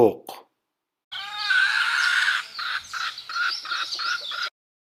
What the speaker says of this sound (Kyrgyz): Тоок.